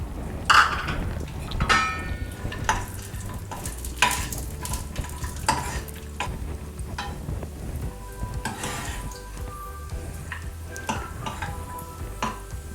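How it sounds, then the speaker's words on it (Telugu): Cashew nuts and raisins frying in a little hot ghee in a kadai, a steady sizzle broken by scraping stirs and clinks of a metal spoon against the pan, close and fairly loud with no talking. "ఇది ఫ్రై చేసుకుందాము."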